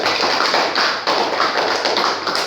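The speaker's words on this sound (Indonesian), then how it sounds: "Tepuk tangan untuk Ria" A classroom of primary pupils claps for a classmate named Ria, a dense, steady patter of many small hands close by, filling the room for a couple of seconds without pause.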